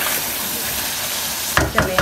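Shinwari chicken karahi sizzling steadily in the pan, close and loud, with a couple of brief scraping stirs of a spoon near the end.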